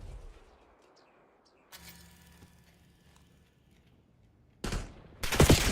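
Gunfire in Call of Duty Black Ops 3 Zombies on the Origins map, with quiet game ambience and a brief burst of mechanical noise, then two loud, close blasts of shots near the end.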